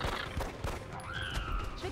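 A pistol shot in XCOM: Enemy Within, a short sharp crack heard against the game's steady background sound.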